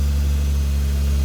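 A 1977 Toyota Celica RA28 engine idles steadily at close range, a loud, even low rumble with no revving while a new radiator warms up.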